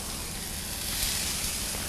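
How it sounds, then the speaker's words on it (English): Skewers sizzle on a hot grill pan in a steady, close, even hiss that holds level throughout with no pauses. "Love that sizzle."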